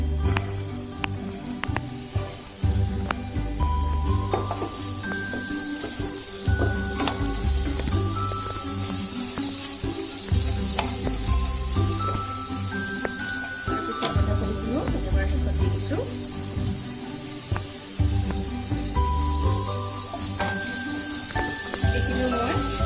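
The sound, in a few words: carrots and onions frying for momo stuffing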